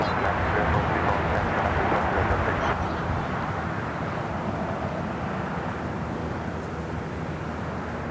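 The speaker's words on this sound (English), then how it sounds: "All right, Air China, the 747 now rolling down at 25 left" An Air China Cargo Boeing 747 takes its takeoff roll on runway 25 left at LAX, a broad, loud jet roar that holds steady and then eases slightly as it continues.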